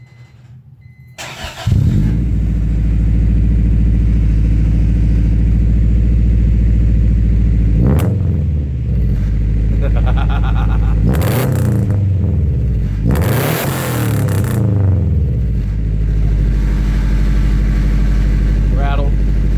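A Honda B18B engine fitted with a UEL boxer-style header starts up, then idles with a loud, rumbling, uneven burble and is revved several times close by.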